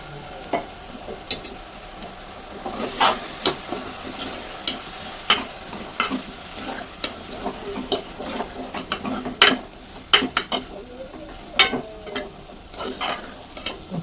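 Green chillies sizzle gently in a pan while a spoon stirs them, producing repeated sharp scrapes and clinks against the metal over a quiet frying hiss, close by, with no voices.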